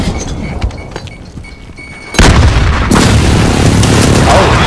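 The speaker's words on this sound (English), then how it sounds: "Enemy cruise missile!" Cruise missile strike in Call of Duty multiplayer: quieter battlefield noise with scattered shots, then a sudden massive explosion that roars on loudly to the end.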